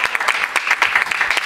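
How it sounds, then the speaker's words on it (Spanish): Studio audience applauding a guest's entrance, a brief burst of many hands clapping, bright and busy with distinct nearer claps standing out. "Fuerte el aplauso."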